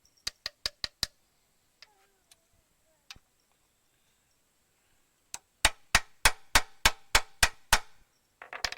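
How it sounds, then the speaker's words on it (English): Metallic hammer blows on a stuck bolt of a timber machine's hydraulic motor: a quick run of strikes, a few scattered taps, then a steady loud series of ringing hits in even rhythm, close by. "hammering like that helps shock the threads"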